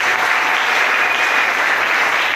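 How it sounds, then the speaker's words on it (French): A church congregation claps together, a dense even burst of applause that holds steady and fairly loud for a couple of seconds. "Acclamons très fort."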